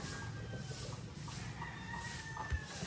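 Rhode Island Red chickens cluck softly at a farm among light background noise, with scattered short calls and a faint crow-like tone.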